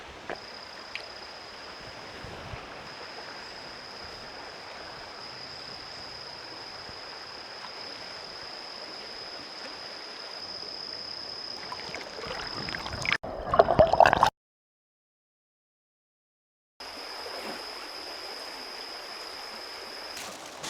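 A river stream near Citalahab, Bogor, flows in a steady broadband rush, moderately loud and continuous, with a brief louder disturbance and a short gap of silence before the water sound returns.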